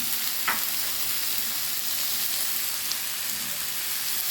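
Garlic, chili and other ingredients sizzle loudly in a frying pan while being stirred, a dense continuous crackling hiss close up with no voices.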